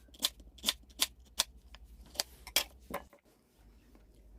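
A knife chops Korean radish into roughly one-centimeter pieces on a cutting board, giving about eight crisp, evenly spaced knocks close by before it goes quiet.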